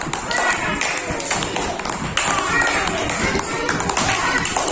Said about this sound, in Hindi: एक बार ताली बजा दो आप लोग।